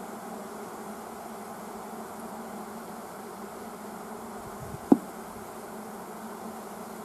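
A low, steady hum of honeybees buzzing around a hive fills the background, faint and continuous, with a brief sharp knock near the end.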